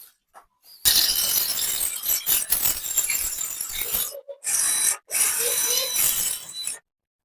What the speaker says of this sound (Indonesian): coba kita praktekin ya untuk ngebor tembok